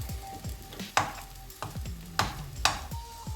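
Potato and capsicum curry fries in a pan with a low steady sizzle, while a spoon scrapes and stirs in a few sharp strokes about every half second to second.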